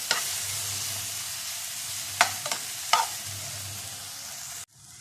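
Chopped banana fries in ghee for sweet momos, a constant close sizzle broken by a few scraping stirs of a spoon against the pan before the sound cuts off abruptly.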